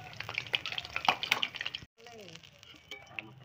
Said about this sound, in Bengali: মাছগুলা লাল লাল করে ভাজা হয়েছে, তাহলে তুলিয়ে দিলাম